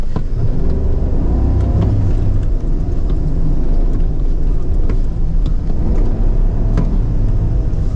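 A 2022 GMC Sierra 1500 AT4X pickup drives through loose desert sand, its engine and tyres giving a steady, loud low rumble heard close up from inside the cab, with no break for the whole stretch.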